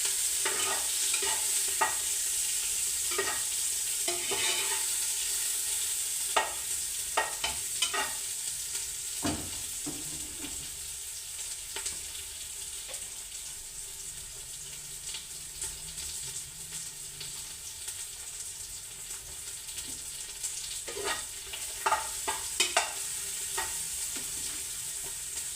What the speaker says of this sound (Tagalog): nagigisa na po tayo mga kabisnes